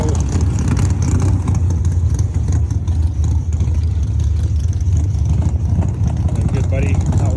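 A drag race car engine, a buddy's Super Pro machine at the track, warms up with a steady, loud low rumble, continuous throughout while voices talk nearby.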